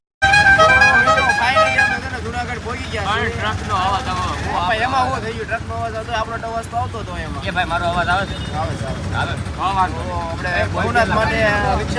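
Horns toot repeatedly over road traffic and engine noise during an auto rickshaw ride through Junagadh during the Mahashivratri fair, with people talking throughout.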